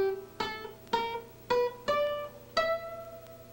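Guitar playing a blues scale, with five or six single notes picked one after another, each ringing briefly and clearly at moderate volume, with no voices.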